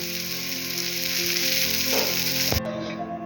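Surmai fish fries in a pan with a loud, steady sizzle throughout, then a sharp clatter near the end as the hiss cuts out abruptly.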